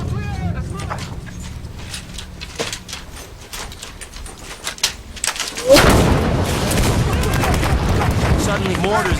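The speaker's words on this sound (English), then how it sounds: "Suddenly mortars and gunfire are flying in from everywhere." Mortars and gunfire in a combat zone: scattered sharp cracks of shots lead into a heavy, loud blast, followed by a sustained rumbling roar of fire nearby.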